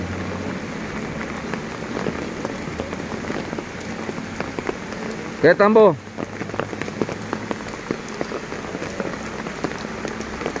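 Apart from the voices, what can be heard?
heavy rain from Hurricane Nora in Acapulco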